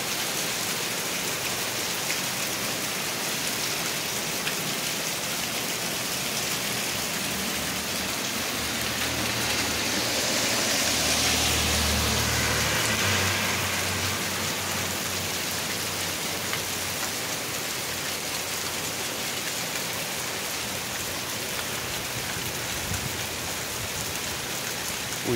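Steady rain falling in Gatlinburg, a dense continuous hiss of drops hitting surfaces, with a low rumble swelling briefly partway through; no one speaks.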